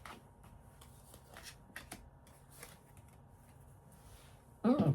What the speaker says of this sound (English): I'll pull the cards